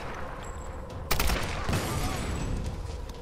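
Machine guns open up in Tomb Raider (2013) after a quiet stretch, a sudden crackling volley of rapid shots that keeps rattling at fairly close range.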